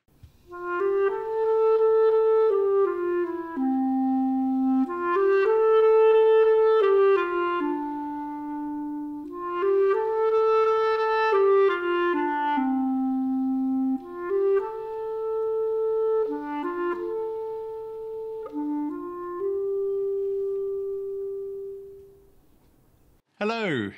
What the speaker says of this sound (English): and I play the clarinet,